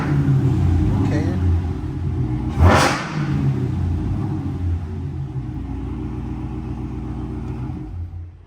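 Dodge Hellcat Redeye engine rumbling loudly at idle with a brief sharp rev near the middle, close by, while people talk over it.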